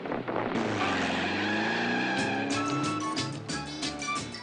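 A modified Volkswagen Beetle fitted with a Porsche engine revs hard and takes off fast, its engine note climbing steadily in pitch, loud and close with wind buffeting.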